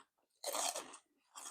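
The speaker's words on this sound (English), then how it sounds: "very crunchy." Microwaved pork rinds crunch loudly in close-up bites, one long crisp crunch followed by a shorter second one, with no talking.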